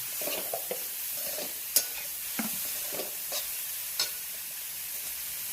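Vegetables for Hakka noodles sauté in a pan, giving a soft steady sizzle under intermittent scraping stirs and a couple of clicks of a spatula against the metal, nobody speaking.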